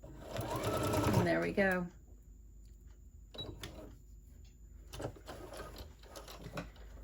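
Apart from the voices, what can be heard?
sewing machine back stitching a tote bag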